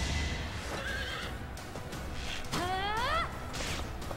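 Horse neighing in the video game Fire Emblem Three Houses, a loud wavering whinny sounding once mid-clip, with clip-clop hoof sounds and game effects around it and no clear talk.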